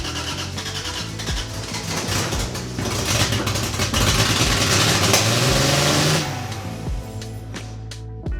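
A 2JZ engine in a Datsun, starting for the first time in ten years, cranks and catches, then revs up loudly and holds a high, rough roar before dropping back to a lumpy idle.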